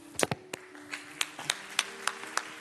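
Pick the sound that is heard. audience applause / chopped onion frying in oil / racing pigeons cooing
audience applause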